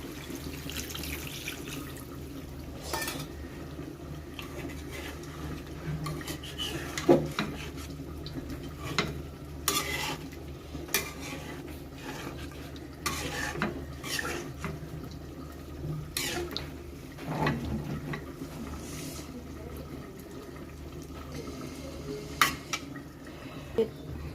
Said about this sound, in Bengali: এবার আমি ঝোল দিয়ে দেবো মাছের